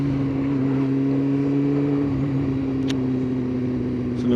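A Kawasaki ZX9R motorcycle rides along at a steady engine drone held in one gear, with a continuous hum and road and wind rush, no talking.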